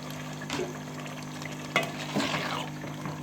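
Diced potato is stirred into keema and peas frying in a pan. A soft, steady sizzle runs under a few distinct scraping strokes of a spoon, all fairly quiet.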